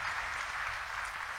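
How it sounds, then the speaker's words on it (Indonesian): A church congregation clapping, a brief steady burst of applause heard from a distance. "Kasih tepuk tangan buat Tuhan kita."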